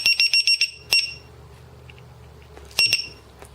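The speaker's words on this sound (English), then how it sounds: "It alarms when it gets down to the voltage." A low voltage battery alarm beeps in a rapid series of sharp, high electronic chirps, then a single chirp and a later short burst, loud and close with quiet gaps between.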